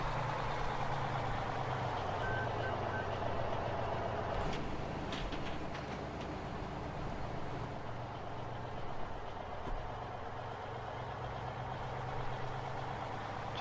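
Truck engine in Farming Simulator 2013 idling with a steady low rumble throughout, broken by a brief clunk and a slight rise in pitch partway through, with faint beeps early on and no voices.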